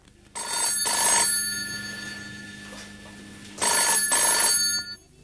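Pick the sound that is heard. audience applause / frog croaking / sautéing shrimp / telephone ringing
telephone ringing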